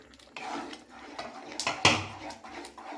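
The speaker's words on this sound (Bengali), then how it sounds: "আমি এবার ঢাকাটাকে খুলে দেব" A metal lid comes off a pot of boiling green mango on a gas stove, giving a bright clatter and scrape amid soft kitchen knocks and handling noises, fairly close and moderately loud.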